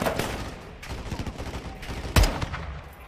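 Gunfire in the Modern Warfare 2 campaign, rapid bursts of rifle and machine-gun shots crackling continuously, with one loud, close, heavy blast near the end.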